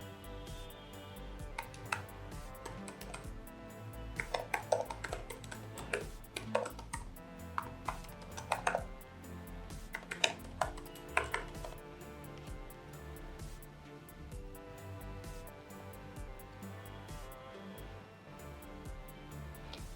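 Keys on a computer keyboard are typed to enter a login, heard as quiet, irregular bursts of light tapping over a soft background hum.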